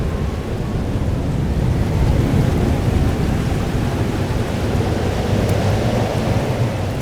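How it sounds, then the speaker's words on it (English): Thunderstorm with heavy rain in the video game Life is Strange: Double Exposure: a steady, dense wash of rainfall with a deep rumbling thunder bed, loud and continuous throughout with no speech. "It's here too. But there wasn't a storm the day Safi died"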